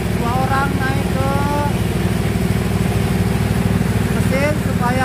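A water well drilling machine's engine runs steadily and loudly throughout, drilling through hard rock with two people sitting on the machine to add weight; brief whistling tones and voices sit faintly over the constant drone.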